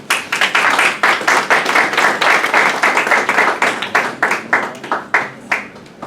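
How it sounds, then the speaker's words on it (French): An audience at a financing-agreement signing ceremony of the Indian Ocean Commission in Mauritius claps steadily, many close, crisp hand claps forming a dense, even applause that continues for several seconds. "Quelques applaudissements."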